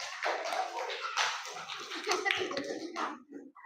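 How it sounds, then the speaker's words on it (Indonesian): Students in a coding and artificial intelligence class clap together, uneven bursts of hand claps mixed with children's voices and chatter in a small room. "tepuk tangan untuk kalian semuanya"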